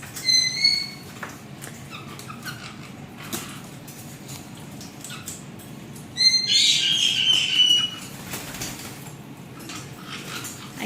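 Baby caique parrots play in a sink, giving a few high, bright chirps early and a louder burst of chirping midway over a low background rumble.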